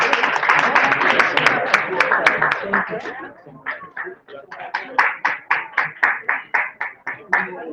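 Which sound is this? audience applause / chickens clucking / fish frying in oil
audience applause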